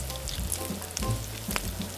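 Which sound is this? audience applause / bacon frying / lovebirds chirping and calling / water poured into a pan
bacon frying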